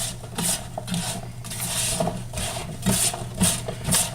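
A spatula stirs cauliflower with olive oil and Italian seasoning in a bowl, giving soft repeated scraping and clinking strokes in an uneven rhythm, close up.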